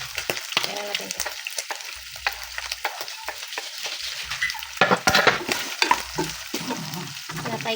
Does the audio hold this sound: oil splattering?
yes